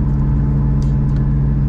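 A sports car accelerates hard on a 100-200 km/h run at a track, a loud, sustained engine drone with a steady tonal hum and constant level throughout.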